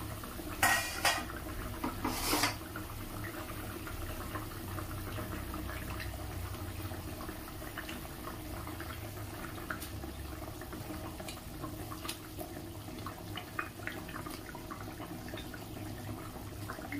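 Fish pieces go into boiling gravy in a pot for a Bengali katla fish curry, with a couple of sharp metallic clanks near the start and then a low, steady bubbling hiss with faint scattered clinks, with no talking.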